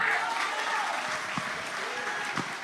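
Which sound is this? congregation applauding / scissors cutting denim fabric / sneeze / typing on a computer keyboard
congregation applauding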